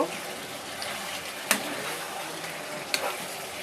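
Chili, coriander and cumin powders sautéed in oil for chicken curry, a steady close sizzle with stirring scrapes and two sharp clinks of a utensil against the pan.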